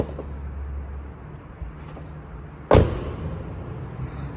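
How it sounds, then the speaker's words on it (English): A single solid thud as the frameless door of a 2020 Tesla Model 3 Performance shuts, sharp and fairly close, standing out from a quiet low background hum. "First, let's do the sound of the doors."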